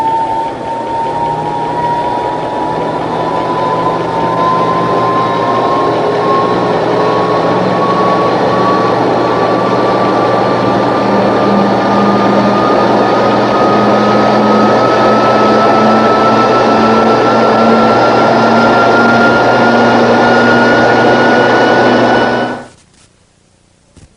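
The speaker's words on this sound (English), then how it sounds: "Using motor drive on the airspeed control, we start the tunnel and then increase the airspeed slowly" Wind tunnel motor running while the airspeed is slowly raised: a loud, steady roar with a whining tone that climbs gradually in pitch for over twenty seconds, then cuts off abruptly.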